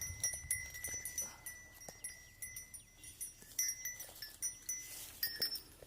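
A small group of goats is herded on a farm, with bells clinking in a steady, repeating rhythm close by, over faint outdoor background noise.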